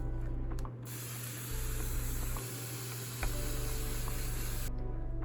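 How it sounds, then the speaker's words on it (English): A spray bottle mists the plants inside a bioactive crested gecko vivarium, giving a couple of bursts of steady hissing spray over a low constant background hum, with no voices. "Probably need to give these plants another spray down."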